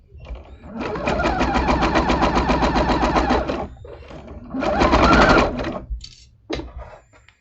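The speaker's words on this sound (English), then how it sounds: "So I want to sew right here on that side." A sewing machine stitches a seam on a half-square-triangle quilt block. It runs in two long, steady, rapid bursts close by, followed by a couple of brief stitch spurts.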